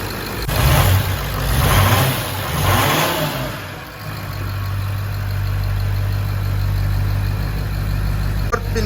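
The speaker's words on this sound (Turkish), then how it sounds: "Bugün 4200 motor V8 ile beraberiz. Sesine bir bak ya. Bir boşta aynen." A Porsche Cayenne 4.2 V8 diesel revs loudly several times up close and then settles into a deep, steady idle rumble, with no talking.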